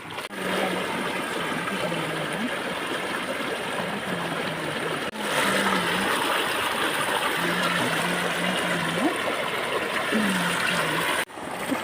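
Rainwater rushing steadily through a channel into a stream, a continuous close wash of flowing water with a faint engine-like drone underneath.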